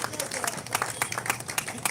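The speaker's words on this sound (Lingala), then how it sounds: "Acclamez encore pour le chef de l'État" A crowd claps in applause for the head of state, with dense, scattered handclaps at moderate distance under a noisy background.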